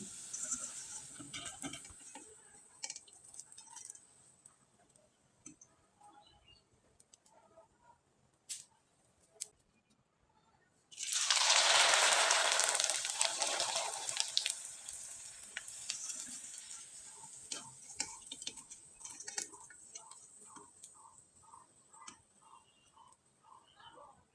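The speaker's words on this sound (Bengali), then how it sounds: "আমি আপনাদের কয়েকটা পিঠা ভেজে দেখিয়ে দিচ্ছি" Rice-flour pitha (sevai-style kol pitha) frying in hot oil, a broad sizzling hiss that surges loudly midway and then settles into a steady crackle with faint ticking bubbles.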